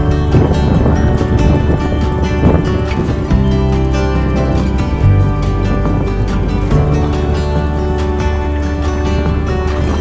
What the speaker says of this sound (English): the wind had strengthened quite substantially on this, our final stretch.